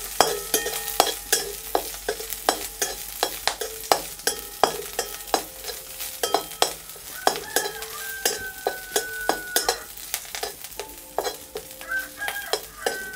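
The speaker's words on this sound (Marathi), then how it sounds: "मंदाचेवर अशी आपण फोडणी करून घेणार आहोत." Garlic and coriander tempering in hot oil in a pan over a low flame, a soft continuous sizzle broken by frequent sharp clicks of a spoon stirring against the pan, with faint birdsong in the background.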